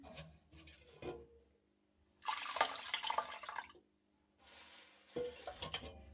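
Water sloshes and splashes over basmati rice being rinsed in a bowl, coming in two louder bursts of swishing with quieter drips and clinks between them, close and alone.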